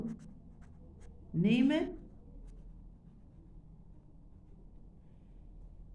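Pen scratching across paper in a quiet room, one short burst of writing, faint beside a single spoken word.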